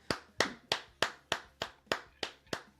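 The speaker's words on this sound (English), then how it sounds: "everyone give Nate a round of applause" A single pair of hands claps nine times in a steady, evenly spaced rhythm, sharp and fairly quiet, with no crowd or voices around it, offered as applause for Nate Bauer on a Penn State sports show.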